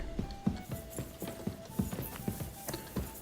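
Horse hooves clip-clop at a steady walking pace in the medieval game Kingdom Come Deliverance 2, crisp evenly spaced hoofbeats close by with no talk over them.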